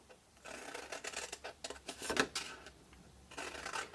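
Scissors cutting cardstock for a box, a series of short, close snips and rustles with brief pauses between cuts.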